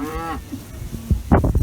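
A cow on a farm lets out a long, loud moo close by, followed by shorter bellows and lowing from the herd as the cattle are turned out.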